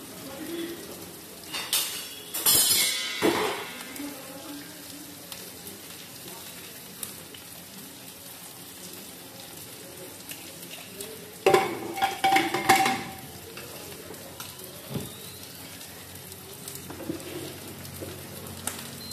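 Onions frying in a pan on the stove while pumpkin boils in a pressure cooker on an induction hob, a low steady sizzle broken by bursts of stirring, clattering utensils and pan knocks.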